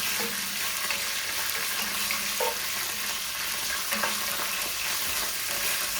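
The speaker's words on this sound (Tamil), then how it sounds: "இப்போ இது எல்லாத்தையும் ஒரு 2ல இருந்து ஒரு 3 நிமிஷம் நல்லா வதங்க விடுவோம்." Green chillies and curry leaves sauté in hot oil in a pan, making a steady, loud sizzle with occasional faint stirring scrapes.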